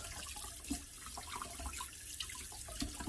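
Whey from goat milk cheese trickles and drips steadily into a big pot, a soft, continuous watery pour with small splashes close by and no voices.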